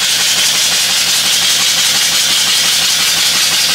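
A small-scale model live steam engine with a clutch and a new flywheel runs steadily, giving a loud, continuous mechanical chuffing and hiss with no pauses and no voices.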